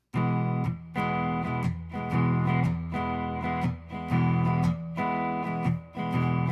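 A single chord is strummed repeatedly in a steady shuffling rhythm, about eight strums, loud and clear with no voices.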